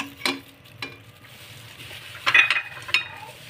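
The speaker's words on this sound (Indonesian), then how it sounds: "Kita panaskan dulu minyak untuk menumis bawangnya." A pan of oil heating for sautéing shallots and garlic gives a soft, low sizzle, with a few sharp clinks of a utensil against the pan.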